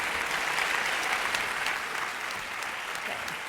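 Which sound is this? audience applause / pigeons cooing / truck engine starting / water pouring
audience applause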